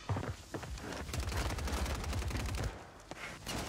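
Rapid bursts of game gunfire, a dense rattling volley followed by a few scattered shots, moderately loud with no talking.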